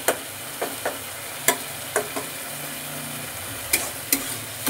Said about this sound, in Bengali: এবার মশলাটাকে ভালোভাবে কষিয়ে নিতে হবে আলুর সাথে খানিকক্ষণ সময় নিয়ে